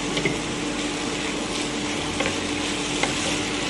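Grated old coconut and sugar being stirred in a frying pan: a steady low sizzle close up, broken by a few light scrapes and taps of the spoon against the pan, with no voices.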